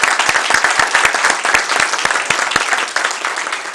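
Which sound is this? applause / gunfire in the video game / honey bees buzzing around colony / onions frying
applause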